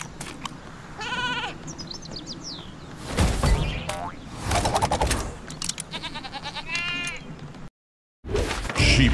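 Sheep bleat repeatedly in Skylanders Trap Team, wavering cartoonish cries that recur through the scene alongside springy boing effects and punchy game impacts, loud and close, ending after a short silent gap.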